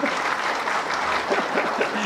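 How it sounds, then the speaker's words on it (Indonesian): Audience applause breaks out at an Indonesian political talk event, a steady dense clatter of many hands lasting about two seconds, with faint voices mixed underneath. "Tepuk tangan dong."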